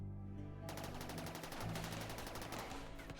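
Rapid automatic turret fire in the colony-building game RimWorld, a fast, even rattle of shots that starts abruptly and continues steadily to the end over a low droning game soundtrack.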